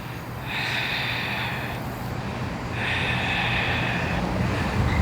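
During a yoga pose, two long, deep breaths are drawn in and pushed out close to the microphone, each a breathy rushing swell lasting over a second, set against a constant low background rumble.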